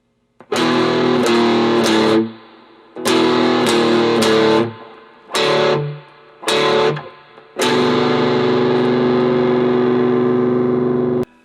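Distorted electric guitar plays a slow phrase in separate bursts of notes with short silences between, ending on a long sustained ringing note.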